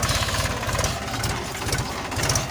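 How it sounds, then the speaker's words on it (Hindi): A Mahindra 265 tractor engine runs at a steady idle with a rough, knocking pulse, working in a cotton field with a 20-disc harrow. "और ये ट्रैक्टर है"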